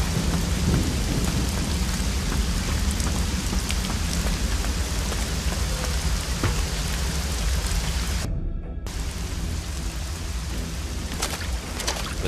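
Heavy rain pours steadily in a thunderstorm in the video game Risen 2: Dark Waters, with rumbling thunder and crackling strikes rising over the downpour and a brief sudden gap near the end.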